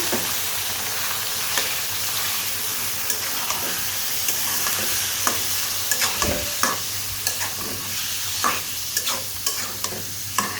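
Meat being stirred and fried in a pot for haleem, a steady oily sizzle under repeated scraping and clacking strokes of a spoon against the pot, close and continuous throughout.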